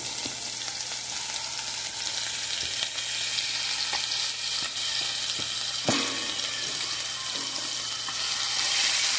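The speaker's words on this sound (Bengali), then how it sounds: "একটু রসুন বাটা দিচ্ছি, এক চামচ পেঁয়াজ দিচ্ছি" Garlic paste and onion frying in a pan, a steady close sizzle throughout with a few sharp clinks and scrapes of a spoon against the pan.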